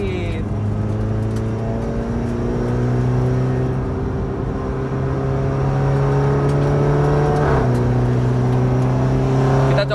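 An automatic eight-speed BMW F30 sedan drives on a racing circuit. The engine drones loudly and steadily from inside the cabin, rising in pitch and dropping at quick gear changes.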